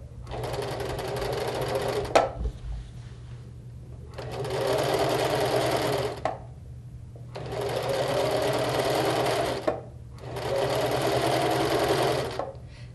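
A sewing machine stitches a long fabric strip onto quilt piecing in four sustained, even runs of rapid whirring, separated by short pauses.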